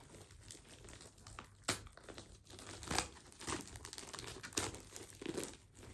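Crinkly plastic packaging being opened and handled indoors, a run of sharp crackling and crumpling bursts with louder rustles at intervals, close and fairly quiet, with no talking.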